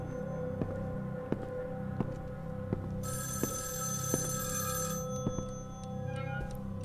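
An old-school telephone rings in the horror video game Evil Inside, its bell sounding in a steady repeating pattern over a low ambient hum, with a brighter ringing burst partway through.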